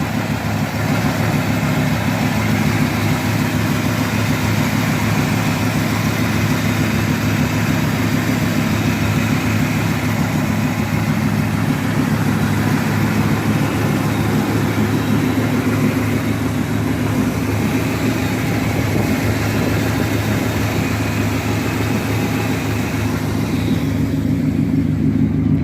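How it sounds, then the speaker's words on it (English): A 1973 Chevrolet Impala idles steadily through Flowmaster exhaust pipes, a loud, close, continuous low rumble holding even for the whole stretch with no talk over it. "Hear these flow masters here in the back. You hear them pipes."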